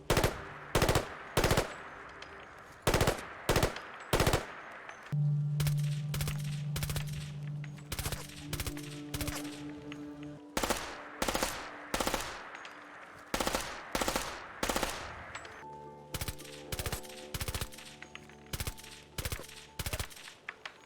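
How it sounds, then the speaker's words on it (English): Bursts of rapid automatic fire from a GIAT FAMAS rifle in modded Fallout 4, sharp and loud, separated by brief gaps, with some sustained tones in the background between volleys. "the mod New GIAT Famas Firing Sounds, and this is what it's going to sound like"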